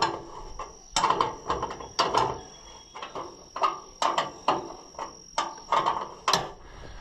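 A grille mounting bracket being bolted onto an Oliver 1450 tractor with a ratchet, a quick rhythmic series of sharp clicking strokes, close and fairly quiet, with a steady faint whine behind.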